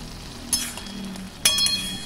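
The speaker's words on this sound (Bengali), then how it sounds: "এবার এটাকে জোর আঁচ করে নেড়ে নেড়ে এর জলটা শুকিয়ে নেব।" Cooked bottle gourd stirred in a pan over high heat, a soft sizzle with two sharp metallic clinks of the spoon against the pan, close with no voices.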